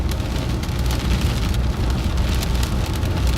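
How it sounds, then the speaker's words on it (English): Heavy rain pounds steadily on a vehicle during a storm chase near Chicago, a loud, dense, continuous hiss and patter with no voices. "We gotta get out of this rain, man."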